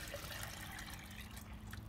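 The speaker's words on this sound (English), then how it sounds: "we're gonna take our blender here and add water" Water pours steadily into a blender pitcher as a kitchen task gets underway, a soft continuous splashing that stays fairly quiet throughout.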